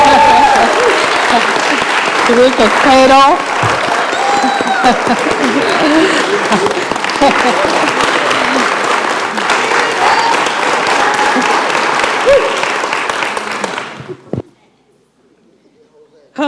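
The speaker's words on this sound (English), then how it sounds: "Can we give her a hand clap?" An audience at a graduation ceremony bursts into loud, sustained applause, with dense clapping and some cheering for about fourteen seconds before it stops abruptly, and a voice speaks briefly over it.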